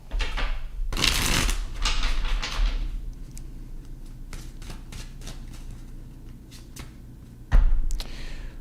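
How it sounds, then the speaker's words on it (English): Tarot cards are shuffled close by in quick riffling bursts and soft flicks, with one louder bridge of cards early on and a sharp tap near the end; no one speaks. "All right, last shuffle."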